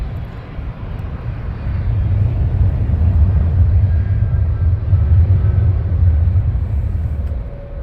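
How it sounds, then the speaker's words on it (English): A Wizz Air Airbus A321 jet departing Luton Airport, a loud, low, steady rumbling roar from engines that swells slightly and holds, heard from a distance with no talking. "Wizzair now, getting ready for departure."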